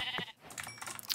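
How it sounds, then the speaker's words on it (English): A sheep in the video game Minecraft bleats a few times in short, close calls, with the second cry trailing off, over faint game background noise. "You're a gray sheep"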